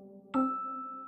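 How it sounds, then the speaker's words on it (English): A single two-tone chime rings out clearly, its bright tone lingering and slowly fading, over a faint steady hum. "Pull the bell."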